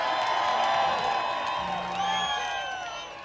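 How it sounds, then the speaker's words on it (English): Crowd at an outdoor blues and brews festival in Telluride cheers and whoops in a broad, sustained roar with scattered clapping, while a voice speaks over the noise. "Give yourself a big round of applause."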